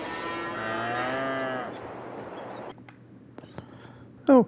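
Cows moo on a farm in the Farming Simulator 22 video game: one long, loud, drawn-out moo fills the first half, followed by quieter farm ambience with small knocks and a short sharp sound at the end.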